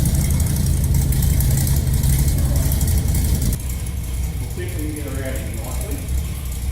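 An old Dodge truck engine idles steadily under its own power, a loud, continuous low rumble with mechanical rattling throughout; the level drops slightly partway through and a voice speaks briefly over it.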